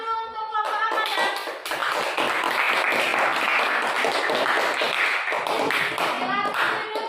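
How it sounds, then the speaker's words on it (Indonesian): A classroom of students claps for a presenting group, giving fast, crowded applause that runs throughout with scattered young voices mixed in. "Tepuk tangan dulu untuk kelompok Amanah."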